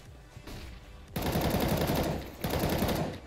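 Rapid automatic gunfire in CS:GO, two loud sustained bursts after a quieter lead-in, close and sharp with no talking.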